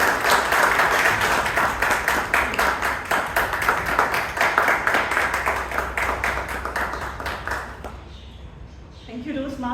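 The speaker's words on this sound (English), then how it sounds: "Let us welcome one more time with a big round of applause, Madam President, Toastmaster Amrit Kaur." At a Bangalore Toastmasters Club term-end meeting, an audience gives a big round of applause for Madam President, Toastmaster Amrit Kaur, rhythmic clapping that slows and thins out before a voice begins speaking at the end.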